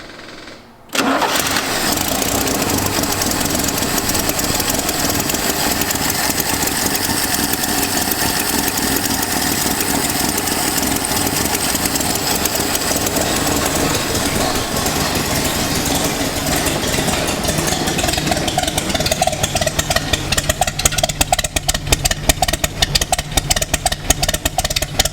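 A 55-year-old Land Rover 109 Series 2A engine, left sitting for 15 years, catches after a second of quiet and runs on with a steady, loud idle, growing rougher and more uneven toward the end.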